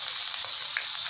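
Pepper, cumin and ginger sizzle in hot oil for a milagu pongal tempering, a close, steady crackling fry with small pops and no voices.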